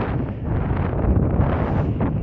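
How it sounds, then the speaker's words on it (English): Strong wind buffets the microphone during a bike ride, at a stop on a rock overlooking a wide city view. Close, loud rumbling gusts roar steadily throughout with no other sounds. "It's really windy."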